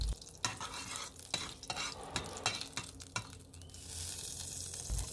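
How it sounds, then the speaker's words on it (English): Cumin seeds sizzle in hot coconut oil in a pot, with a steady frying hiss broken by repeated sharp scrapes and clinks of a spoon stirring, close up and alone without talk. "When the oil is hot, add the cumin or Jeera seeds."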